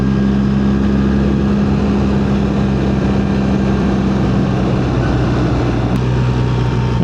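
A 2025 BMW R 1300 GS Adventure motorcycle ridden on a cold day on new tires: a steady, loud engine drone with low rumble and wind noise throughout, close up and without talk.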